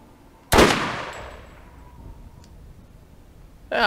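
A single loud gunshot cracks in the Borderlands video game, its sharp report decaying over a second or more, followed by a faint click and the onset of another shot at the very end.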